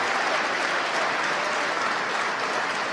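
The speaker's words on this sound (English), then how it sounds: "You can hear the applause in the background from the SpaceX team gathered around the Mission Control Center" The SpaceX team in a mission control center claps steadily and enthusiastically during a rocket launch, a dense sustained applause throughout with no break.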